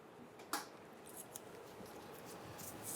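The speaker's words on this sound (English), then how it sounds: "I am going to simply cut this hose." A razor blade slicing through a rubber fuel hose during a fuel pump replacement on a 1997-2006 Jeep Wrangler, heard as faint, brief cutting scrapes and snips over a quiet background.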